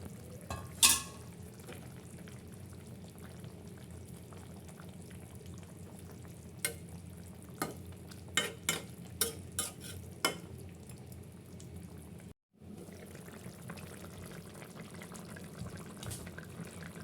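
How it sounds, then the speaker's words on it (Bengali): Fish curry with potatoes and stem vegetables cooks in a pan, a soft steady sizzle and bubble broken by a series of sharp scrapes and clinks of a spoon stirring against the pan. "এখন মাছগুলো দিয়ে দেব।"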